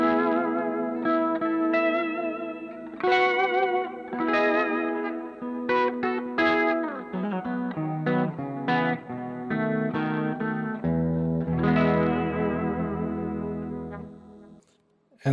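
A UV77MC replica electric guitar on its bridge pickup, run through chorus and a little reverb, playing a fairly loud melodic run of shimmering single notes and chords for about fifteen seconds with no talking.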